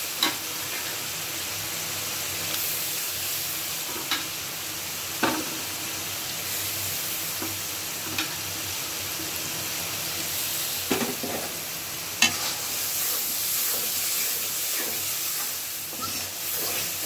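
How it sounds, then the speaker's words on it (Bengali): Shrimp frying in a pan of cooked-down spice paste, giving a steady loud sizzle and hiss with occasional sharp pops and scraping stirs throughout. "এই পর্যায়ে আমি চিংড়িগুলো দিয়ে দিচ্ছি"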